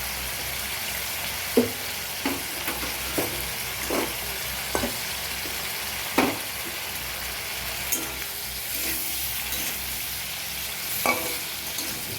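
Prawns and slit green chilies sizzle in a hot pan with a constant frying hiss, broken by a series of sharp spatula knocks and stirring scrapes at irregular intervals.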